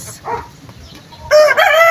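A backyard rooster crows loudly and close by, a single strident call rising after a quieter stretch of faint clucking.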